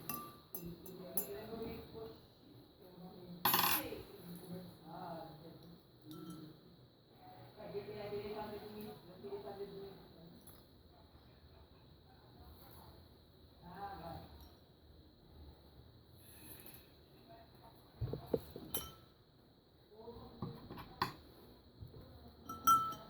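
Plastic pieces are stirred in a density separation solution in a container, giving intermittent glassy clinks and knocks, one sharp clank standing out, under ongoing talk.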